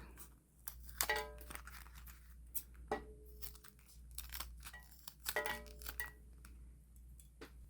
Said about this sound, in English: cut off any excess zipper tape